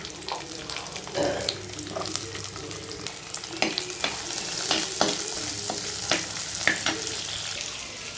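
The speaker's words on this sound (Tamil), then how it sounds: "கொஞ்சோண்டு எண்ணெய் ஊற்றி அதில் சோம்பும் பட்டையும் மட்டும் போட்டிருக்கேன்" Fennel seeds and cinnamon frying in a little oil for mutton kulambu, a busy crackling sizzle with repeated utensil scrapes and clicks against the pan, close and steady throughout, with no speech.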